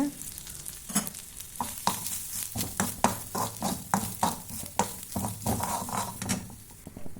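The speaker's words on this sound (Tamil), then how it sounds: "இதனுடன் தேங்காய் ஒரு கைப்பிடி எடுத்து வறுத்துக்குங்க" Grated coconut roasts in a pan for a pirandai chutney, with a soft steady sizzle under repeated scraping strokes of a spoon stirring at an irregular rhythm, close by and without talk.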